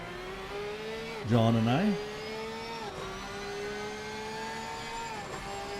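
A Porsche race car at Donington Park screams at high revs, a steady whining engine tone throughout with a sharp pitch dip and surge around the middle, heard from the cockpit while someone talks briefly.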